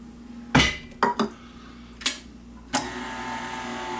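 A stand mixer kneads pizza dough with a dough hook. A steady motor hum runs under a few sharp clanks and knocks as the hook strikes the bowl, with no talking.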